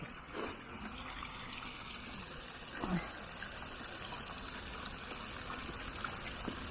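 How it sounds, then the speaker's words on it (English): Water trickles and flows softly and steadily at a distance, a quiet continuous babble with a couple of faint bumps. "sit here and listen to the water"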